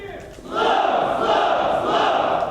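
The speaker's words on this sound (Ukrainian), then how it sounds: "Вони крокували вулицями середмістя, вигукуючи патріотичні гасла" Crowd of marchers in a city-centre memorial procession for ATO veterans and families of the fallen, chanting slogans together in a loud, sustained collective shout that swells after a quieter start.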